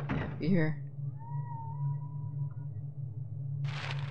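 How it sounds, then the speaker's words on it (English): A cat meows in the PS1 game Silent Hill, with a sharp short call near the start followed by a thin, drawn-out tonal wail over a low steady hum, and a brief voice speaking before a noisy burst at the end. "If you hear a lot of meowing, yeah, you do."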